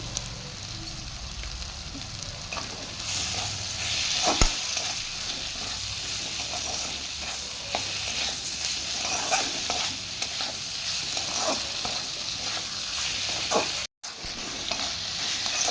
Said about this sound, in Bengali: আমার এখানে মশলাটা ফ্রাই হয়ে গেছে